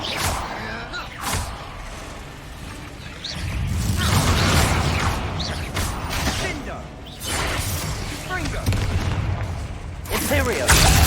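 Bombarda and Confringo spell blasts in Hogwarts Legacy crack and boom repeatedly in a loud, busy combat mix, with explosive bursts, shattering debris and a voice speaking over the fight.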